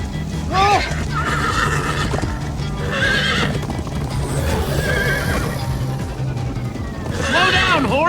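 Horses gallop with steady clip-clop hooves and repeated loud neighs in Minecraft: Story Mode, a whinny rising near the start and again near the end, with voices talking over the pounding hooves throughout.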